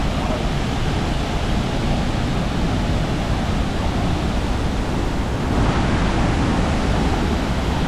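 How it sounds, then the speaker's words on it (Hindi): Waterfall in Bali, a dense, loud, steady roar of rushing water filling the whole scene without letup, no voices over it. "that's the waterfall for you guys"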